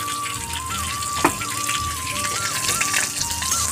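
Chopped onion frying in oil in a pan for fried rice, a steady crackling sizzle over a constant tonal hum and background music.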